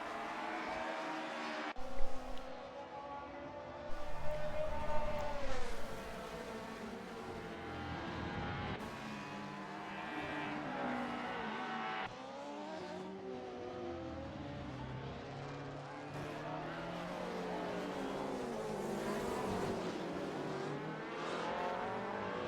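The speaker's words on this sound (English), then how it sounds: "Just occasionally hear something revving off the red line there." Video game DTM race car engines at Norisring drone and rev continuously, pitch rising and falling as they accelerate and shift gears, with brief louder bursts of revving off the red line.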